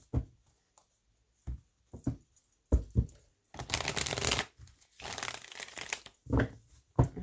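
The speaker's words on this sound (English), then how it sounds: "All right, one more shuffle." Tarot cards being shuffled close up, a series of short riffling and slapping bursts with quiet gaps between them, including two longer sustained shuffles in the middle.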